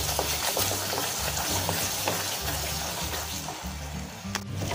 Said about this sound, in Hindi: मसाला देखिए अच्छी तरीके से भून गया है।